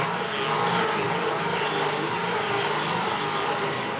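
Supercars race cars roar through the opening lap at Taupō, a dense, sustained engine howl from the pack, loud and steady throughout with no clear single pass-by.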